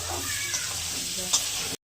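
Boiled cauliflower and potatoes fry in oil with salt and turmeric, a steady, close sizzle with occasional stirring scrapes that stops abruptly near the end.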